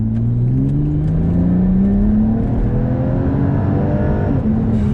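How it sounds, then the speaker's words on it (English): A Volvo with an upgraded TF80 automatic transmission accelerates hard, its steady engine drone rising in pitch and dropping briefly at quick gear shifts, loud and close throughout with no talking. "the shifts are quick. The shifts are definitely quicker."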